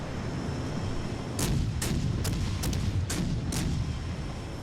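Naval cruiser guns firing in the World of Warships: Legends video game, a rapid series of about seven sharp booming shots over a steady battle rumble.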